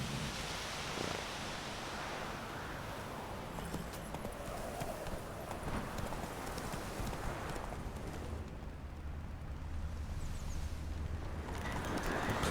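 Hoofbeats of a horse galloping at a steady clip in The Witcher 3: Wild Hunt on Nintendo Switch, a continuous rhythmic pounding under broadband ambient noise, with no talking.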